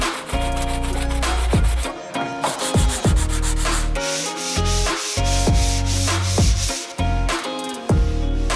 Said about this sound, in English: You can use something like this, a battery operated sander, or just a hand sander like a sanding sponge